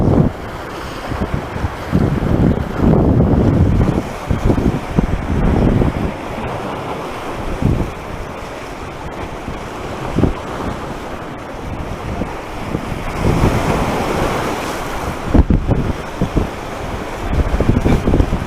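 Loud ocean surf crashes and rolls under heavy wind buffeting the microphone, a continuous roar with surging swells and gusts, and no voices.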